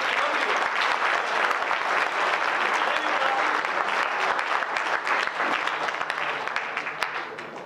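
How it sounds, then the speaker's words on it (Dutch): Loud audience applause at an island election debate as the lead candidates return to their seats, thick sustained clapping that tapers off slightly at the end. "Groot applaus, dames"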